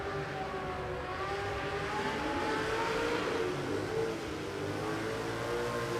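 No-prep drag racing cars at Warwick Dragway in Australia, engines droning and revving in a steady roar that swells slightly mid-run, heard from some distance without talking.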